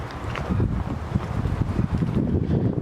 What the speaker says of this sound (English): a little difficult to do anything if the wind doesn't let up at least a little